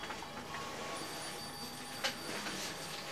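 Old-fashioned telephone ringing inside the 1940s-set Mafia 2 game on PS3, a faint steady bell tone over a busy in-game background with period music, with no voices.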